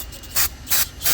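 Throttle cleaner sprays onto the throttle body of a Mazda MPV in three close, loud hissing bursts over a steady background rumble.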